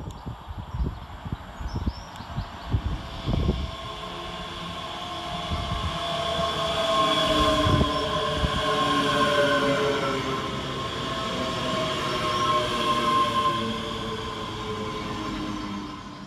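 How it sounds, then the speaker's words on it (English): A ScotRail Class 385 electric train pulls into Bishopbriggs railway station, with rail clunks giving way to a building, steady rumble and electric whine from the passing carriages that holds loud to the end. "Next in to arrive is 385024 with the 1223 ScotRail service from Alloa to Glasgow Queen Street."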